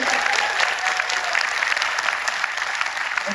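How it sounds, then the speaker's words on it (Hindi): Dense, steady applause from a large seminar crowd at a Royal RCM business event, continuous clapping filling the hall with a faint voice over it. "वो आप अपनी तालियों से प्रूव कर सकते हैं सबसे पहले"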